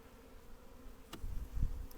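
A swarm of honey bees hums low and steady inside a hive box, with soft handling thumps and knocks rising near the end.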